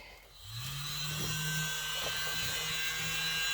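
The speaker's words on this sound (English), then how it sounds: "So I'm using the world's smallest leaf blower." A tiny leaf blower blows air across freshly poured resin coasters, a soft whirring hiss with a faint motor hum that starts after half a second and runs steadily, quiet and close.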